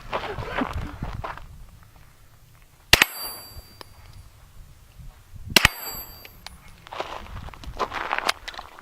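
Two sharp impacts from a suppressed .50 caliber sniper rifle striking stainless steel ring out about two and a half seconds apart, each with a bright metallic ring that hangs briefly, while voices murmur before and after.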